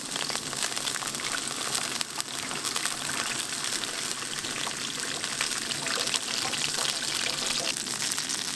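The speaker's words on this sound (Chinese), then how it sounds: "倒入酱油" Soy sauce poured into a pan of hot oil and spices for a chili pickle sauce, a continuous splashing trickle with crackling sizzle over several seconds, close and fairly loud.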